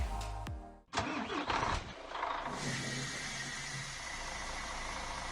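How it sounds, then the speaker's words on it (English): An 8x4 heavy truck with a 400 HP engine in the TOE3 truck simulator game cranks and fires up, a short starter whirr and catch followed by a rising rev that settles into a steady, even idle. "let's fire that engine up"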